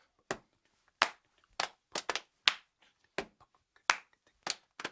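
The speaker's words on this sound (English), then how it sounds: "Stomp, clap, thanks to you, clap." Sharp, hard claps and stomps land one by one in a simple repeating rhythm, close and dry, with short silences between the hits.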